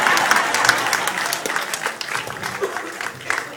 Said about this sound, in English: so y'all clap now